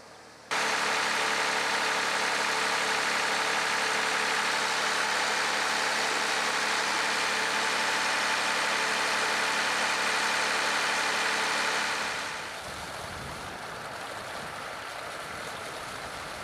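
A diesel motor pumping stream water for a desert drip irrigation system runs as a steady, loud drone with a constant hum, then drops to a lower, rougher level near the end.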